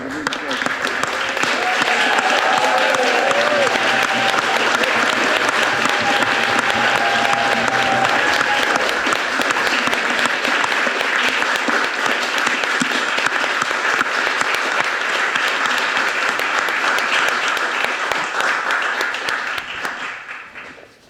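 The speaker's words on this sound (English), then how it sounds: "I'm just going to stand up and I am going to clap." Council members in a full council meeting clap together in sustained, dense applause that fills the room steadily for about twenty seconds before fading at the end.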